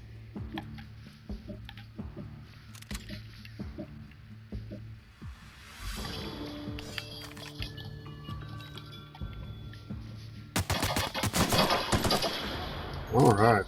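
Gunfire from a newly found, better gun in the video game The Outer Worlds, with scattered sharp shots and a dense, louder burst of rapid fire near the end, all over low background game sound.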